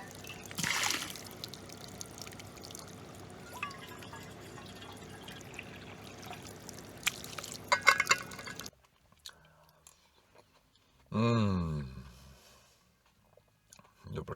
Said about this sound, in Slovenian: jaz skočim še do izvira zdravilne vode, si jo natankati